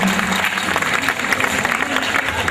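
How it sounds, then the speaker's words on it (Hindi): Crowd at a school teachers' event clapping to welcome a management trustee onto the stage, a steady, fairly loud burst of hands throughout with faint voices underneath. "उनसे रिक्वेस्ट है ताली स्वागत करें अतुल सर का"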